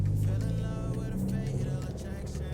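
A 2020 Subaru WRX cruises at night with a steady low engine drone and road hum, continuous and even throughout, with no talk.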